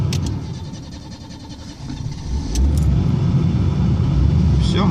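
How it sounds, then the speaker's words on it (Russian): A Nissan Sunny FB14 engine starts after an electrical short is repaired. A steady low rumble builds and settles into a loud, even idle, close by, with faint clicks near the start. "Все, машинка завелась."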